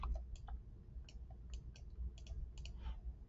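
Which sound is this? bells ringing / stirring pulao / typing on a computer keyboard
typing on a computer keyboard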